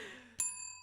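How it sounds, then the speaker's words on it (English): A single bell strikes once and rings out with a clear, sustained metallic tone that lingers to the end, faint against a low room hum. "That's the bell."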